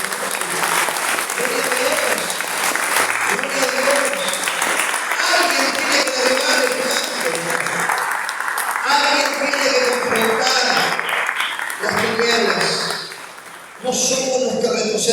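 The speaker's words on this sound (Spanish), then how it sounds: "¿Cuántos pueden dar un fuerte aplauso al Señor?" A church congregation claps loudly and steadily, with a voice and musical tones running over the applause and a short dip near the end.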